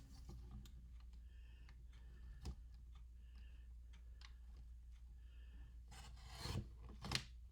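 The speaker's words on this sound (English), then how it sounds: "I'm going to cut the ends off of these. Let me see if I can find my trimmer" Fabric ends are trimmed with a trimmer in quiet, scattered soft clicks and light raspy scrapes, ending with a couple of louder rustles.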